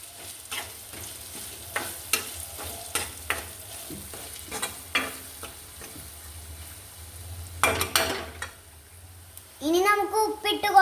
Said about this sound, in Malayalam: ഇനി നമുക്ക് ഇളക്കാം.